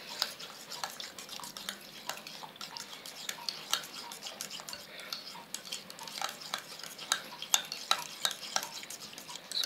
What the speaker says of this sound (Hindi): बाथू को भी अच्छी तरीके से मिक्स कर लें दही में,